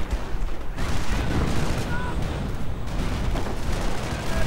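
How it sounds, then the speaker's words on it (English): Artillery fire in a strategy video game battle: a dense, continuous barrage of booms and gunfire rolling on without pause, loud and crowded throughout. "Lots of artillery."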